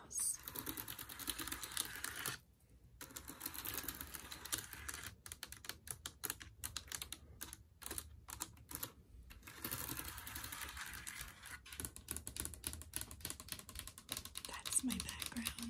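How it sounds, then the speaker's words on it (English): Soft, close clicking of keys on a wireless computer keyboard at a home office desk comes in quick irregular bursts with short pauses, faint and quiet throughout, with soft speech heard at times. "It comes with this wireless keyboard."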